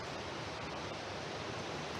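A river flowing in a steady broadband rush, close and continuous, with no talk or other distinct sounds.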